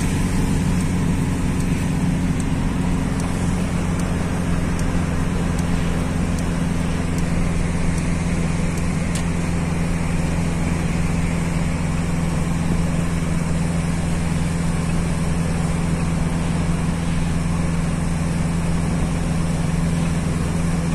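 Steady in-cabin road drone of a car cruising toward Santa Cruz do Capibaribe, Pernambuco, a constant low engine hum and tire rumble with faint rattles, no change in pace throughout.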